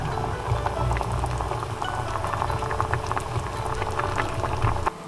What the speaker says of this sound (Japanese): それでは10分ぐらい煮ます